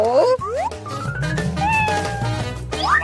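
A cat meows several times in quick succession, loud and close, with rising and falling tones over a steady background of music.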